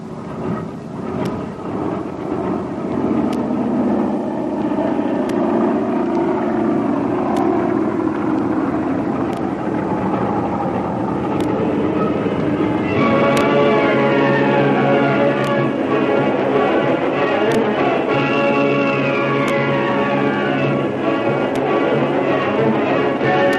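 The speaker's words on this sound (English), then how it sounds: "Down the long concrete runway, up into the air, the big passenger airliner takes off" A big passenger airliner takes off down a long concrete runway as a radio drama effect, its engine roar building steadily and then rising into a loud, sustained whine that carries to the end.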